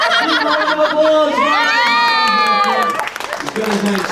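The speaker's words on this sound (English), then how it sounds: "Round of applause." A crowd of children and adults shouts and cheers loudly at a special effects show, with excited high voices sustained throughout and tapering slightly near the end.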